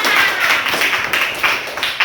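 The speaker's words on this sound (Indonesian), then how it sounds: "Tepuk tangan dulu untuk kita semua." A classroom of students claps together after finishing a quiz in an Indonesian lesson, a steady dense patter of many hands close by, with no talking over it.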